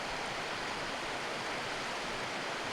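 A waterfall and stream on a walk near Cornwood and Yealm Steps produce a steady, even rush of flowing water, moderately faint and continuous without interruption.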